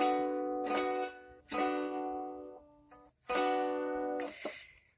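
Mountain dulcimer chords strummed with a three-finger method, four bright ringing strums spaced about a second apart, each decaying slowly, up close with no talking.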